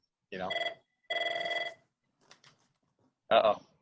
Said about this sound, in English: important phone calls. That's that parent calling you.